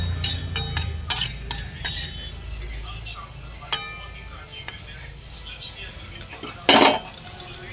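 A utensil stirs a pot of macher jhol, fish curry with onion stalks, potatoes and added water, making scattered metallic clinks and scrapes against the pot, with a sharp cluster of clatter near the end and faint low background sound.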